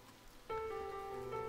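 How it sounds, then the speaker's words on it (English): Steady rain hiss from the Muv-Luv Extra visual novel, swelling in at about a third of the way through and continuing under sustained tonal music notes, with no talk. "Also, nice rain effects."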